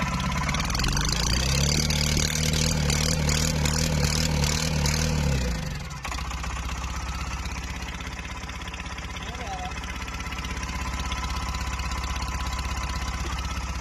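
A motorcycle engine idles with a rough, uneven exhaust note from a faulty silencer, loud at first, then abruptly drops to a lower, steadier running hum.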